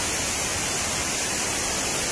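Flood water rushes like a river through the city of Palopo, South Sulawesi, a loud, dense, continuous roar with no break and no voices.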